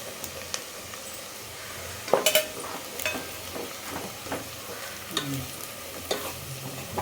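A spoon stirs softened onion and spice masala in a hot pan for a spicy crab curry, making repeated scraping strokes over a low, constant sizzle.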